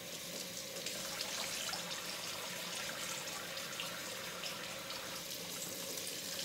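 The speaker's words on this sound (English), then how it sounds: "I'm gonna take my cloth, I'm gonna wet it" Tap water runs steadily into a sink while a cloth is wetted under it, a faint, even splashing hiss that lasts the whole stretch.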